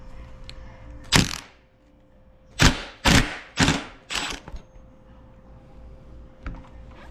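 Impact wrench fitted with a 36 socket working a GSXR handlebar nut: a single rattling burst, then a quick series of four sharp hammering bursts, and a faint last tap, loud against a quiet garage.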